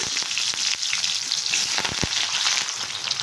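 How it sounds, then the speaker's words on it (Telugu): Onions sizzle loudly in hot oil after tempering seeds, a steady crackling hiss with occasional sharper pops. No one speaks. "బాగా వేడైన తర్వాత పోపు గింజలు వేసేసి ఇప్పుడు ఆనియన్స్ వేద్దాము"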